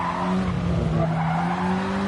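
A Clio Cup race car in a racing video game brakes into a corner, engine drone steady with tires squealing and skidding over about two seconds, loud and continuous with no talk.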